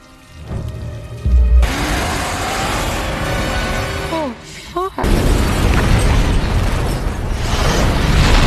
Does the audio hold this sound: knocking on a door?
no